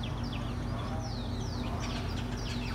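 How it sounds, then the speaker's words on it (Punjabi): Sparrows chirp in the morning, a dense chatter of quick high tweets over a steady low traffic hum, faint and somewhat distant. "ਚਿੜੀਆਂ ਨੇ ਆਪਦਾ ਸਵੇਰੇ ਸਵੇਰੇ ਪਾਇਆ ਰੌਲਾ"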